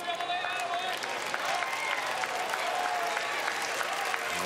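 Crowd applause and clapping at a Little League World Series baseball game between Canada and the Czech Republic, a steady sustained wash of many hands from a large crowd, with a commentator talking over it.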